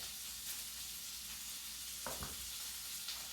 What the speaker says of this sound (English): And stir my sausage again, making those nice little brown bits at the bottom.